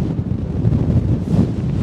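Strong wind buffets a microphone on an exposed hilltop overlooking Wensleydale, a loud, steady low roar with gusty swells throughout and no speech.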